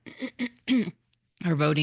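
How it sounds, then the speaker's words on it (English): A man clears his throat right into a close microphone, one short rough rasp set between brief bursts of his own speech. "sorry, I didn't mean to clear my throat right in the mic."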